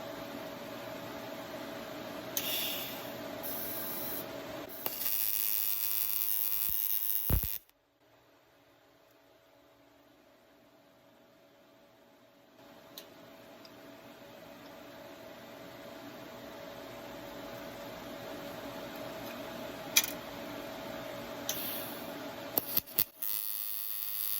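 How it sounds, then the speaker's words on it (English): A handheld tool buzzes loudly and steadily while tack welding a fiberglass dorade box for a boat, then cuts out. A softer electric hum follows and slowly builds, with a few small clicks near the end. "I'm going to go ahead and just give it a couple of tack welds."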